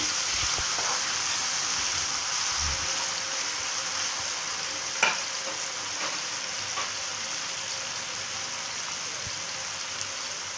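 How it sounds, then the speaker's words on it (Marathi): Finely chopped tomato sautés with softened onion in a pan for a whole moong curry, giving a steady, close sizzling hiss with a couple of brief utensil clicks and no talking. "ह्याच्यामध्ये आपण टोमॅटो टाकूया बारीक केलेला, परतवून घेऊया"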